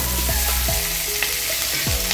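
Pork frying in a pan for Filipino adobo, a loud steady sizzle close up with scattered scraping and stirring clicks throughout, no voices.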